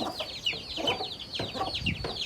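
Small ducklings on a farm give rapid, high, repeated peeping calls with faint rustling beneath, close and fairly quiet.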